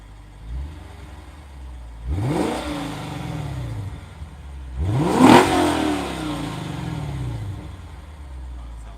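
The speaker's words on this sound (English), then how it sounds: "Light on the revs, but it sounds good" A 2021 Lexus RC F engine revs twice in sharp bursts, each climbing and falling away, over a steady idle between them.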